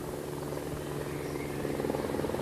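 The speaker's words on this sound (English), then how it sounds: "Is it your father up in the helicopter?" A helicopter flying overhead gives a steady low rotor drone with a faint rhythmic chop, swelling slightly louder toward the end, with no talk.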